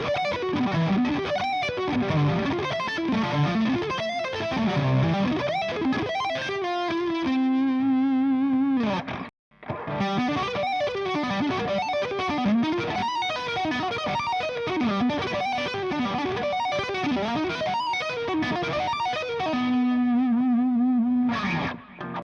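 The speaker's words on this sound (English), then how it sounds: "Way too much distortion." Heavily distorted electric guitar through a Wampler Dual Fusion Tom Quayle signature pedal plays fast, wavering bends and sustained notes, with a brief dropout midway before the gritty playing resumes.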